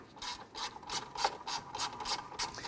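A ratchet snugging a bracket bolt on a 2006-2012 Toyota RAV4 3.5L V6, giving a rapid run of close, crisp clicks in even bursts with no talk.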